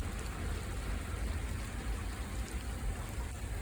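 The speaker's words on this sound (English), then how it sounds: "I just saw at least nickel-sized hail just now coming down from the sky." Steady rain and hail falling outdoors as a cold front moves through Portland, Oregon, a continuous broadband hiss with low rumble underneath, fairly faint and even throughout with no talking.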